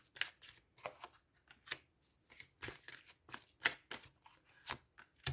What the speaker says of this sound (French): on va prendre quelques oracles. Quelques cartes de l'oracle de la Lune.